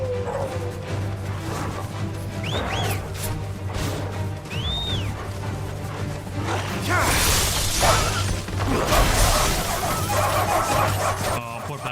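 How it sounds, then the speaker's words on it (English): Shiva ice power attack in the video game Final Fantasy XVI, a swelling icy crash and whoosh in the later part over busy battle effects, music and whistling swoops, with a dog-like creature's yelps earlier. "All right, let's try out this new Shiva power, shall we?"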